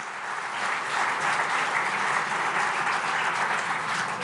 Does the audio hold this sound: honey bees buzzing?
no